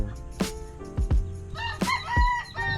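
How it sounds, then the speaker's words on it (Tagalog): Chickens and chicks on a Philippine backyard farm, with several short clucks and a crow-like call coming close and clear in irregular bursts over a steady low background hum. "Dito mga manok, sisiw."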